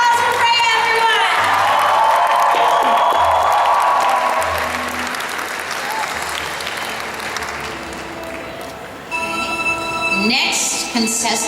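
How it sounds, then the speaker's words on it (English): Audience applause and cheering at a cosplay championship fill the hall loudly for several seconds, then thin out while a voice comes over the sound system, with a brief swell near the end. "Round of applause for Freya"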